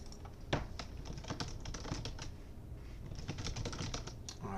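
Steady, close typing on a computer keyboard, with quick, uneven key clicks pattering continuously and a few slightly louder strokes, no voices.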